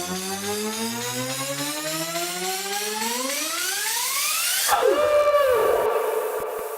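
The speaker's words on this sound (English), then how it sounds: "Just before the drop hits, there's some risers and effects" Electronic risers and a howling synth effect building before a drop in a track, with harmonic tones sweeping steadily upward over about five seconds, then a burst of noise and a swirling, descending howl near the end, loud and continuous.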